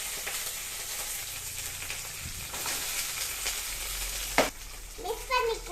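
Garlic and curry leaves frying in oil for a crab curry make a continuous moderate sizzle, with utensil clinks and one sharp metallic clank toward the end.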